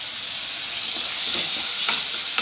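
Loud, steady sizzling hiss from a pan of tempering with tomato for a bean palya, a close, continuous frying sound with faint stirring taps near the end.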